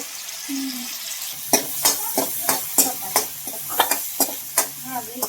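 Tomato, garlic and cumin sizzle in a pan while a spoon stirs them, giving a dozen sharp regular scrapes and clinks over steady frying hiss, close and clear.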